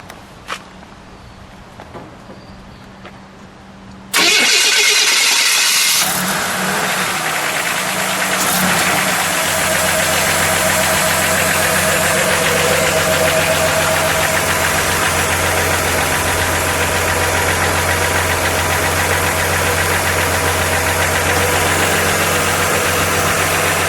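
A 1967 Pontiac LeMans Sprint with the overhead-cam six cranks and fires abruptly, then settles into a steady, loud close idle that continues for about twenty seconds, with faint clicks beforehand.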